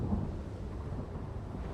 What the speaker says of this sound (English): I have not heard crackling thunder like this since Sarai Island, I think.